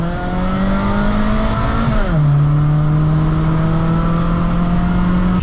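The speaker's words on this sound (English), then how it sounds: "It's got Granador exhaust screaming." A Honda FD2 Type S with a Granador exhaust holds a loud, steady high-rev drone at close range, drops pitch briefly around two seconds as if shifting, then settles into a sustained rasping tone with no talk.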